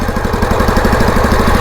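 Bajaj Pulsar 220 motorcycle engine idling with a steady, rapid pulsing thrum, close and fairly loud, running alone without talk for a short stretch.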